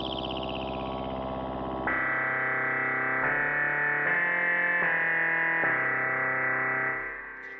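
Nikaya wavetable FM synth holding a sustained bright, buzzy chord that shifts in timbre and pitch in steps as its filter cutoff is adjusted, playing alone with a slightly distorted, alien-like tone before fading at the end.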